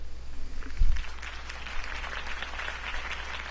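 A crowd claps and applauds in Batman: The Telltale Series, a dense, steady wash of sound over a low hum, with no voices standing out.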